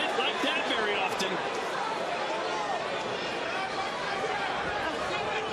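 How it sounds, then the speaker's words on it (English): Boxing crowd at a pro fight between Bryce Mills and Emiliano Vargas, a dense steady roar of cheering and chatter that stays loud and continuous throughout, with voices blended into the hubbub. "You can hear the crowd react."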